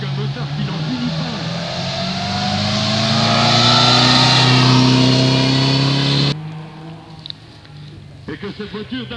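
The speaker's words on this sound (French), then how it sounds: "Cette voiture est équipée d'un moteur Alvis de 6 cylindres." Loud, sustained engine roar from a 1932 car powered by a 3-litre six-cylinder Alvis engine climbing a Vosges hill climb course, building in intensity as it nears, then dropping off sharply, leaving faint background noise.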